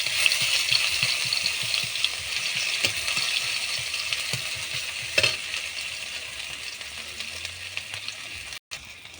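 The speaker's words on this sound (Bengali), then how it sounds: "কাঁচা লঙ্কা আর রসুন ফাটা দিচ্ছি, রাঁধুনি কালো জিরে সর্ষে জিরে একসঙ্গে করে বাটা আছে দিয়ে দিচ্ছি" Crushed green chili and garlic with a ground paste of radhuni, nigella, mustard and cumin sizzle loudly in hot oil, a dense bright hiss with quick rhythmic spatula scrapes ticking through it, close and without talk.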